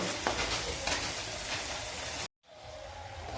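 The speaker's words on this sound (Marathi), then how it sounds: "आता आपण हे 5 ते 6 मिनिट चांगलं फ्राय करून घेऊ।" Ground masala paste for a homemade gavar (cluster bean) bhaji, frying in a pan with a moderate continuous sizzle and a few soft stirring taps, broken by a brief cut to silence before a quieter sizzle resumes.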